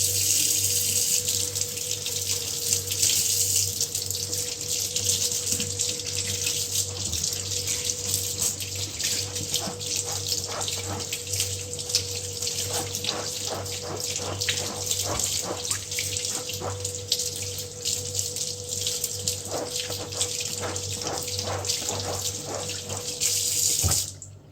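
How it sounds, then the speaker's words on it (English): Hot water runs steadily from a tap into a sink to soak a pair of goalkeeper gloves, a continuous close rushing splash with small irregular patters as the gloves move under the stream. "after I got the gloves wet with hot water"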